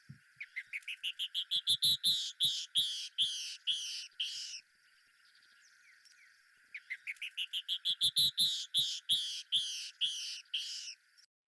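A female canyon wren song is played from a recording: a clean, accelerating series of high, clear descending whistled notes, heard twice and separated by a short quiet gap.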